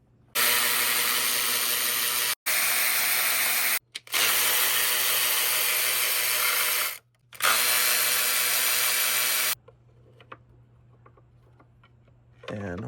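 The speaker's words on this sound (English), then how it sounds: "we're gonna grab our electric ratchet, and they're gonna be 10 mils all the way around" Electric ratchet spinning off 10 mm bolts during a ProCharger supercharger kit install on a 2006 S197 Mustang: four loud, sustained buzzing runs separated by short pauses, close to the mic, followed by quieter handling noises.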